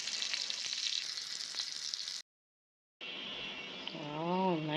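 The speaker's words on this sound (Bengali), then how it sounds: "আফরিনের জন্য এখানে চিকেন বল ফ্রাই করতেছি।" Chicken balls fry in hot oil with a close, continuous hiss and crackle that stops briefly, then resumes with a wavering tonal sound rising toward the end.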